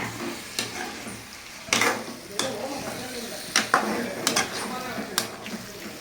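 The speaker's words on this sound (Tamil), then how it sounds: "இப்போ கரண்டி போட்டு கிண்டு மெதுவாக கிண்டணும்" A ladle stirs prawn gravy in a pan, giving soft scraping and sloshing strokes at irregular intervals over a low sizzle, with a few sharper clinks of metal on the pan.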